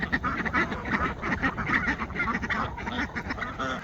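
Ducks on a homestead, including a black runner duck, quack in rapid overlapping bursts, a busy nearby chorus of harsh honking calls with no talk over them.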